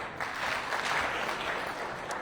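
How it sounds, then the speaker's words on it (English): Audience applause fills a hall during a talk on building wealth in Africa, a dense, steady wash of clapping from many hands that runs the whole length without a break, moderately loud and with no voices over it. "Please clap for him."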